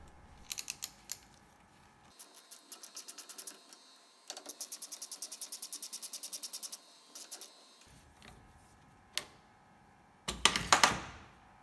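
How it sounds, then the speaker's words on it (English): A 16mm socket on a ratchet works loose a thread-locked electrovalve in bursts of quick, crisp metallic clicks, with short pauses between them and a louder rattling scrape at the end. "I'm attempting to remove this electrovalve with this 16mm socket."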